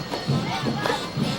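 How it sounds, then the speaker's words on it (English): High school junior varsity football crowd at a Kahuku versus Waianae game, chanting rhythmic bursts in unison from the stands, loud and a little distant, with a commentator talking over it. "Crowd still calling the signals."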